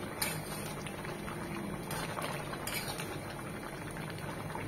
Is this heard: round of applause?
no